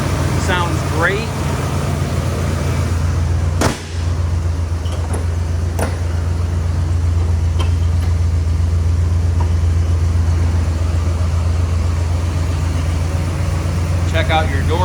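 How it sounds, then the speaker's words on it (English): A 1972 Oldsmobile 442 convertible with a 455 V8 idles nearby, a steady low rumble that runs unbroken throughout, while people talk over it at times. "Engine sounds great."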